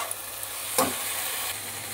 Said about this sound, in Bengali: এবার আবার একটুখানি নেড়ে নেবো, একটু ভালো করে ঢ্যাঁড়সটাকে এবার কষাবো